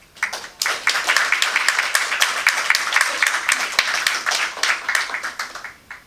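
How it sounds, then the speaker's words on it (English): A crowd at a franchise association's annual state-of-the-franchise talk applauds: dense, loud, sustained clapping from many hands for several seconds, with a few distinct claps poking out near the end. "who of everyone here deserves the biggest round of applause."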